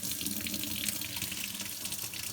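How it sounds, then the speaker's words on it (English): Water runs steadily from a kitchen tap into a mug, a continuous close hiss and splash with no talking. "Turn on the tap."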